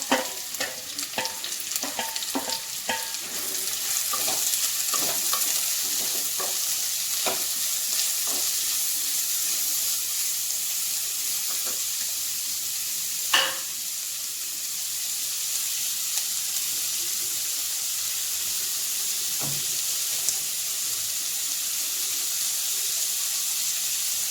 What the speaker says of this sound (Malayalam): എണ്ണ നന്നായി ചൂടായതിന് ശേഷം സവാളയും ഉള്ളിയും പച്ചമുളകും കൂടി ഇട്ട് കൊടുക്കുക